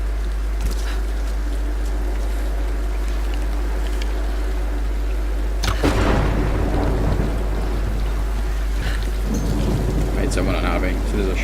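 Thunderstorm in the Tomb Raider reboot game, with steady rain hiss throughout and a loud rolling thunder crack near the middle, followed by lighter rumbles, under faint game ambience.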